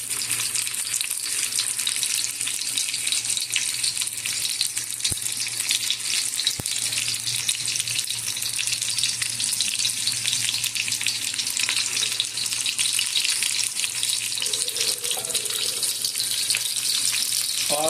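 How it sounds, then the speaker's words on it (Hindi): Chicken pieces frying in a hot pan until golden brown, with a steady, dense sizzle that holds at an even level throughout and no talking over it. "ये गर्म हो गया तो इसमें हम चिकन ऐड करते हैं। ये गोल्डन ब्राउन होने तक हम इसको इसमें फ्राई करेंगे।"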